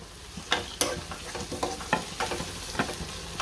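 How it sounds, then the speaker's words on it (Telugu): Tomatoes frying in a pan for dhaba-style chicken masala, a steady close sizzle broken by repeated sharp scrapes and stirring clacks of a spoon, with no talk. "ఇప్పుడు మంచిగా ఇలా వేగిపోవాలండి టమాటాలు"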